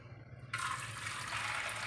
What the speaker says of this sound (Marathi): 1-2 पाण्याने हे गहू धुवून घेऊया